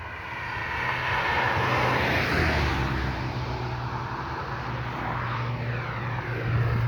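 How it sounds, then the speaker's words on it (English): A LIAT passenger plane takes off from a runway near Coverley, Christ Church, Barbados, its engines a loud, steady roar that holds for the whole stretch with no talking. "You can even see the Liat plane taking off as well."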